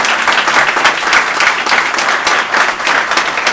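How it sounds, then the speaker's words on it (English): Audience at a North Miami council meeting breaks into sustained, dense applause honoring a tennis center award, steady clapping filling the whole stretch without pause. "don't clap for me, clap for Mr. Dobbins"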